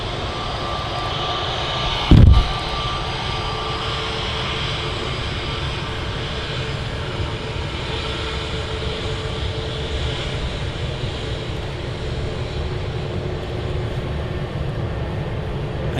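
An EasyJet Airbus A320neo at Manchester Airport gives a sustained, loud engine roar that stays steady for the whole stretch, broken once early by a short sharp thump, with no talking.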